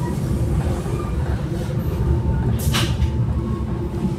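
A KRL commuter train in Indonesia, on the Padalarang route near Bandung, rumbles steadily throughout with low rolling noise and a brief hiss of air midway, and no talk over it.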